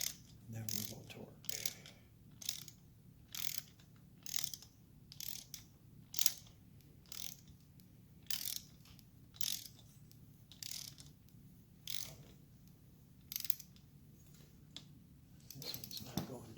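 A ratchet clicks in repeated short bursts while snugging the top-end bolts on a 1975 Norton Commando Mk3 during restoration, with even pauses between strokes, close and fairly quiet in a still workshop.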